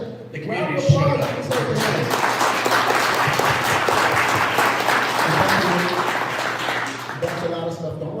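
An audience at a Detroit startup pitch event applauds with sustained, close clapping, and voices and cheers can be heard mixed in as the applause builds and fades near the end.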